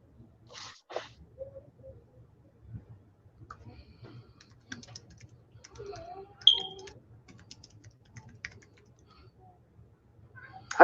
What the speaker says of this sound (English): I'm typing him questions as we're going